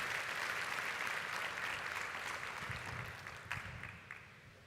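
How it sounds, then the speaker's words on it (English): Audience applause at a university graduation ceremony, a dense steady clapping from a large crowd that slowly thins and fades over a few seconds, with a few louder individual claps near the end. "Let's give them a round of applause for that poem."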